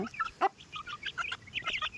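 Hens with a brood of young chicks in a farmyard, clucking and cheeping in a busy overlapping chatter, close and moderately loud, with no talk over it.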